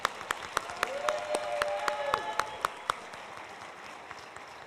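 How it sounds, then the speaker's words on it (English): An audience at a school board of education meeting gives a round of applause for the school staff, with a few sharp, loud claps standing out over a softer crowd clapping that fades toward the end. "big round of applause to our staff"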